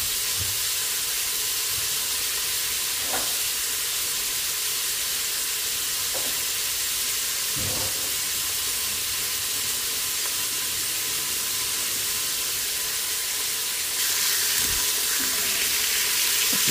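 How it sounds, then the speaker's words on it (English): Caribbean-style oxtails fry in a hot pan with a steady, dense hiss of sizzling fat, loud and continuous, broken by a few faint clinks and taps. "Y'all like to hear that sizzle."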